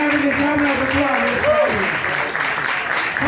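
Audience applause at a live magic show in Las Vegas, a steady wash of clapping lasting about three seconds with a voice and tonal sounds running over it.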